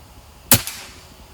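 A single sharp, close report from a PCP air rifle, a quick crack with a brief echo or ring right after, in an otherwise quiet outdoor setting.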